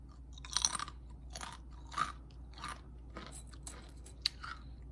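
Close crunchy chewing of a crisp scone, a few sharp bites followed by softer irregular crunches, fairly quiet with no talking.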